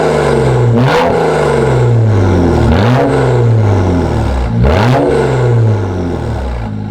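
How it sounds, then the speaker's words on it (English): Straight-piped BMW exhaust recorded right at the tailpipe tip, loud and close, with three sharp throttle blips rising and falling over a steady rumbling idle, each rev crackling briefly before settling back. "some more samples of the exhaust sound"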